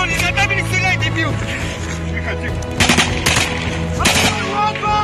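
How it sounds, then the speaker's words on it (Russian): Gunfire during combat in Ukraine, loud bursts of close shots and rapid automatic fire crackling in clusters, mixed with shouting voices. "Оттуда стреляй, Абу!"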